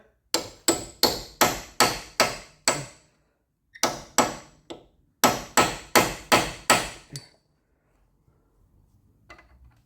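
Sharp metal hammer blows strike a flat or round punch or chisel while fitting a CV boot on a 2006 Toyota Yaris, coming in fast rhythmic bursts of about seven, three and six ringing hits separated by short pauses, close and loud.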